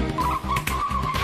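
A car brakes hard with its wheels locking, giving a loud, sustained tire skid squeal with a steady tonal whine and a pulsing engine rumble beneath, heard close and alone without voices.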